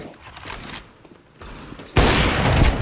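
Automatic weapon fire in the game Counter-Strike 2 during a deathmatch, with sporadic shots early on, then a loud, dense burst of rapid gunfire filling the last second.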